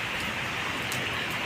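Rain falls during a storm, a steady even hiss of drops on surfaces with no pauses, moderately loud and without voices.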